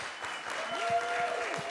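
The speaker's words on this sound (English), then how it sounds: "Can we give mothers a round of applause?" A church congregation applauds mothers during a morning service with a short burst of steady, close clapping, while a faint tone rises briefly underneath.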